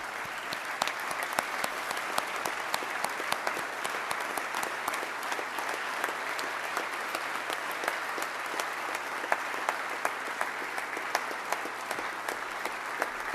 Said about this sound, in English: Let's give those honorary Pioneer Lawmakers a great round of applause as well.